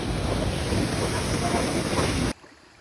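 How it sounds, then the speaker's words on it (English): Jungle canyon waterfall, a loud steady broadband rush of falling water heard up close, cutting off abruptly near the end to quiet. "So this is the Mother Canyon waterfall"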